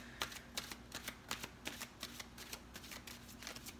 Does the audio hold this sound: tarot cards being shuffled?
yes